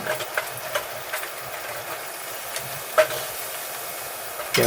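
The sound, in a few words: stirring food frying in a pan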